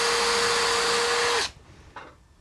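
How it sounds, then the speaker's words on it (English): A power drill bores into a piece of second-hand laminate flooring clamped to a bench, a loud steady whine for over a second before stopping abruptly, followed by a brief quieter burst. "Then I drill into this."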